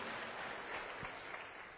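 Audience clapping at a funeral service, a brief burst of dense applause from a gathered crowd, fairly faint and even throughout.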